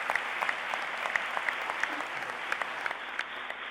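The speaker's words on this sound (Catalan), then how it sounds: "Este aplaudiment és per a tu" Warm, steady audience applause rings out at a Valencia Fallas ceremony naming the falleras mayores, a continuous crowd clapping with some louder individual claps on top.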